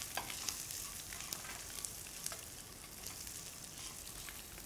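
Cashews and curry leaves with chopped green chili sauté in a pan for a Keralan vegetable stir fry, giving a steady, faint sizzle sprinkled with small crackles and pops.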